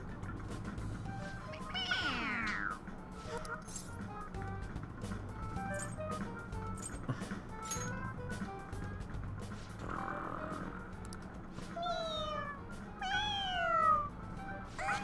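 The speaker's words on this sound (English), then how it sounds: "It meows when you press on its head." A toy cat from the game Persona 5 Royal meows when pressed on the head, giving several short, fairly clear meows over a steady hum of background ambience.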